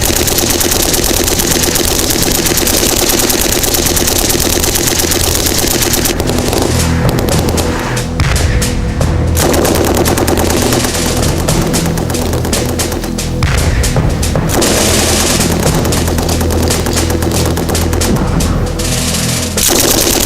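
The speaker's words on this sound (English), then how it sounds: "Devastating combination of mortar and sustained machine gun fire" Sustained machine gun fire from general-purpose machine guns, combined with mortar explosions, during an SAS Sabre Squadron assault, loud and continuous for about twenty seconds with dense bursts and heavier booms mixed in.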